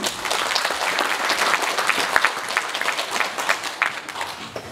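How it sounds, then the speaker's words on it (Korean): An audience at a Chungbuk Democratic Party committee launch ceremony breaks into warm, sustained applause to welcome a speaker, with many hands clapping steadily and densely for several seconds and no talking. "뜨거운 박수로 환영해 주시기 바랍니다."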